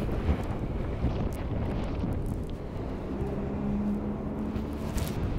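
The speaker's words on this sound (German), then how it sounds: "ich kann fast nicht gegen den Wind laufen" Strong cold wind buffets the microphone in steady, heavy rumbling gusts that swell and dip without a break, loud and close throughout.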